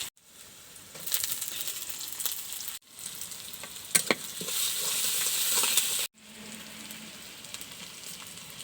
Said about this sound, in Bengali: পেঁয়াজটা ভাজবো, কাঁচামরিচটা ভাজবো।